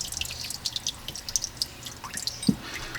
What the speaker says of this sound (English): you saw water is running out of there